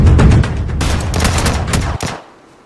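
Heavy gunfire in PUBG: a dense, loud fusillade of automatic shots. It opens with booming low-end bursts, then keeps going as steady rapid fire and ends with a sharp cutoff into near silence.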